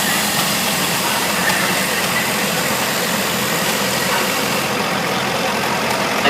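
A 1957 Fireball 350 high crop engine running at an evening parade, a loud steady mechanical drone with constant low rumble and no breaks, close by and alone.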